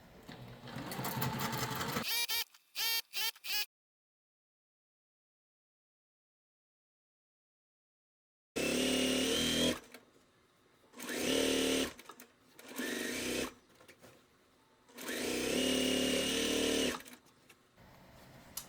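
A sewing machine stitching long pinned fabric seams runs in close, loud bursts, a quick start and stop, a long silent pause, then several steady runs of rapid whirring needle strokes.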